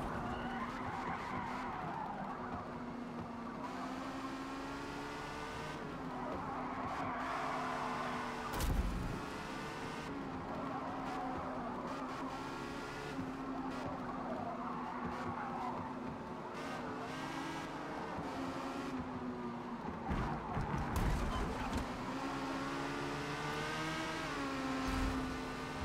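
A Porsche 918 race car in Forza Motorsport holds a sustained engine note while accelerating hard, with tires skidding and squealing continuously and a few sharp thumps along the way.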